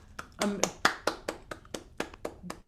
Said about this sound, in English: Can we have just like a huge Zoom round of applause for everybody who performed today, all singers and pianists?